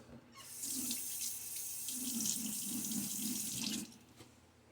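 A tap runs steadily, with water splashing in bursts as it is scooped up onto a face, then the flow cuts off near the end.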